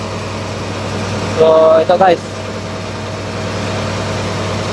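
A marine diesel generator runs aboard a ship with a constant low, steady drone in an engine room, while someone talks briefly over it.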